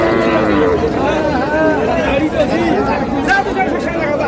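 Cows low repeatedly at the crowded Ambari cattle market, drawn-out bellows rising over a constant hubbub of nearby chatter and bargaining voices.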